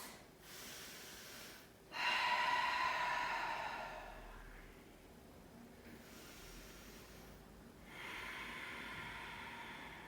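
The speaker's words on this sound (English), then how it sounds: "let's take a couple of deep releasing breaths here. So inhaling through the nose, exhaling through the mouth or the nose." Two slow, deep breaths during a yoga session: each is a long inhale through the nose followed by a softer, drawn-out exhale, close and quiet.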